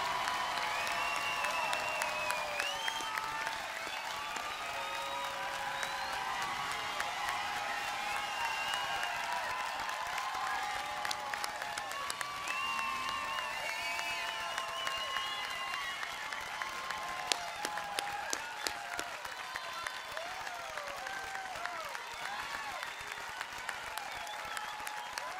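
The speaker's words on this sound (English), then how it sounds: "can we please clap it up one more time for the class of 2021?" Sustained applause and cheering from a large audience at a Laguna Beach High School graduation ceremony for the class of 2021, a dense, steady wash of clapping with scattered whoops lasting throughout.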